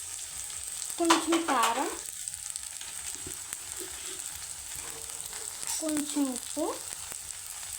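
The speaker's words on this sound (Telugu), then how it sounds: "ఇవి బాగా ఫ్రై అవుతున్నాయి" Cumin seeds fry in a pan with a steady background sizzle and occasional stirring scrapes, while someone talks over it in two short stretches.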